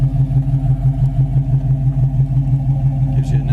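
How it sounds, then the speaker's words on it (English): A 1973 Chevy Nova SS idles through its dual exhaust with a deep, steady rhythmic burble, loud and close, holding an even lope throughout. "Gives you a nice sound of the dual exhaust, it really sounds good."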